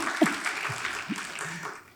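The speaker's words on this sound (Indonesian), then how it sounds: "Berikan tepuk tangan buat Tuhan." A church congregation claps for God during a service, a brief spread of scattered applause from a crowd, moderately loud and fading toward the end.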